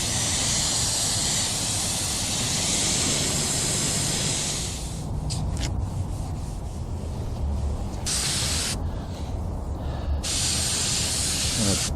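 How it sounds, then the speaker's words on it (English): Steady compressed air blows across freshly sprayed base coat on a car bumper repair, a loud continuous hiss that runs the whole time and thins briefly in places. "Just kind of force dry this with a little bit of air"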